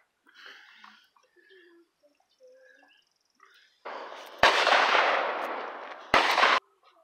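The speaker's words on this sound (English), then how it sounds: "Three shots. Hit it once." Shots from a Hi-Point 995 carbine rifle fired outdoors at about 50 yards, two loud sharp reports each followed by a broad rushing burst, after quieter scattered ambient sounds.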